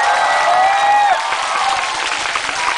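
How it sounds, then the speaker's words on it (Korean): A university international festival talent show audience applauding after a keyboard performance, dense steady clapping with a shrill whistle and crowd cheers riding on top. "멋진 키보드 연주 들려준 조슈아 선생님한테 큰 박수 부탁드립니다"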